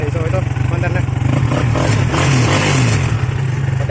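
A motorcycle engine idles after a stator repair, with a damaged camshaft noted, giving a loud, close, rapid low chugging that stays steady throughout while someone talks over it.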